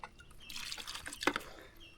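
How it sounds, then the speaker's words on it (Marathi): Water pours and splashes steadily onto plants and soil, with a brief louder gush near the middle, and no one talking. "चला आता आहे ना आपण पाणी घालूया"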